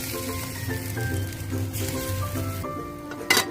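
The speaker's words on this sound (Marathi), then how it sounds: "तेल गरम झालं की यामध्ये आपले जे मिक्सचर आहे आप्यांचं ते टाकून द्यायचं" Appe batter poured into hot oil in an appe pan, a steady close crackling sizzle like light rain, with a brief clatter near the end and soft background music.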